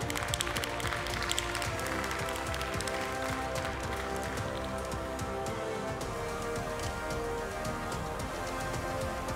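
Applause from an audience at a Jersey cattle show, a steady, dense patter of many hands clapping throughout, fairly loud and sustained without a clear break.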